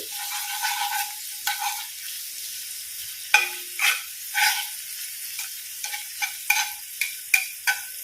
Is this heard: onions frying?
yes